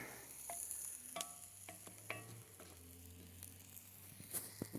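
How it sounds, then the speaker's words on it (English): Deer heart sizzling and frying in a pan, a steady low crackle with scattered sharp pops and occasional stirring scrapes, close and fairly quiet throughout. "And it's cooking good right there."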